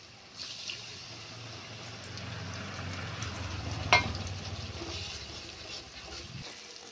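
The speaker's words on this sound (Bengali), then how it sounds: "মশলাটা একটু ভাজা ভাজা হয়ে গেলে এবার আমি যে গুঁড়ো মশলাটার গোলাটা করে রেখেছিলাম সেটা দিয়ে দেব" Spices frying in a pan for a home-style mutton curry, a close, steady low sizzle with stirring scrapes and one brief sharp clink, no talking.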